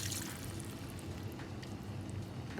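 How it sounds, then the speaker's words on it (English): Beef broth poured into a pot holding caramelized oxtail for a Cuban-style stew: a steady, close, splashing pour of liquid running unbroken throughout, with no talk. "now I'm adding my beef broth"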